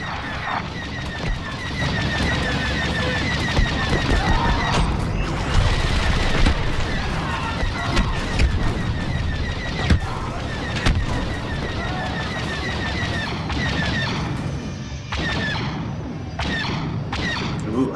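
Dense, continuous exchanges of blaster fire from the Star Wars Battlefront 2 campaign fill a busy battle inside a base, with rapid overlapping shots under game effects and occasional voices.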